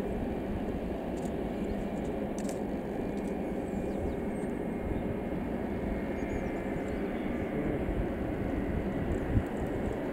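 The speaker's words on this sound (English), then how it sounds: "That sounds more like an engine." A distant aircraft engine at RAF Mildenhall at sunset, a steady low droning rumble that holds evenly throughout, heard alone without talk.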